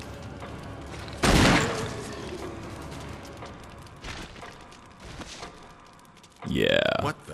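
Gunshots fired at a monster in Resident Evil HD Remaster, a few loud, sharp blasts separated by quieter stretches, with in-game voices talking between the shots.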